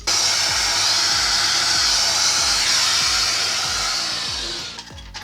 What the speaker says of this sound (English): this thing is full of dust, so before I go any further, I'm going to give it a hoover.